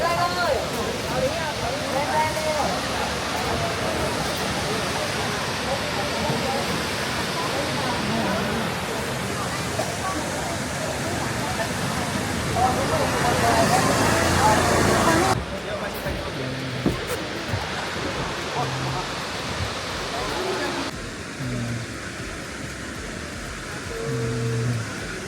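A waterfall at Cat Cat Village in Sapa roars as a constant broad rush, continuous and fairly loud, with voices of people talking over it in the background.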